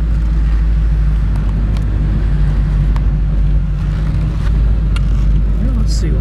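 A 1934 Ford car's engine rumbles loud and close as it accelerates aggressively, a deep steady drone throughout with slight swells, heard from inside the vehicle.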